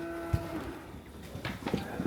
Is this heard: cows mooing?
yes